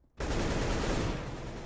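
Rapid automatic gunfire in Counter-Strike: Global Offensive erupts suddenly after a brief quiet moment and continues as a dense, loud, sustained burst of shots.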